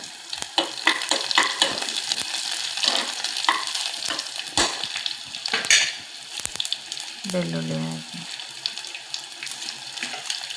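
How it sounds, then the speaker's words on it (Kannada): Chana dal and garlic frying in oil for a tomato gravy, a steady close sizzle broken by scattered clinks and stirring scrapes, with a brief tonal hum of running water near the end; no talking. "ಫ್ರೈ ಆಗಿದೆ. ಬೆಳ್ಳುಳ್ಳಿ, ಕಡಲೆಬೇಳೆ ಸ್ವಲ್ಪ ಕೆಂಪಗಾಗಲಿ."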